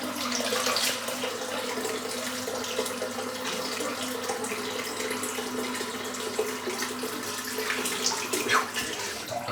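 Hot water pours steadily from a tap into a sink, a continuous close splashing rush with slight fluctuations and no voices throughout.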